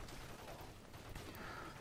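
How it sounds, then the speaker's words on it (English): Dense rattling gunfire in a crowded Call of Duty MW3 ground war match, steady and fairly loud, with bursts mixing together in the distance. "there's gunfire coming from over there"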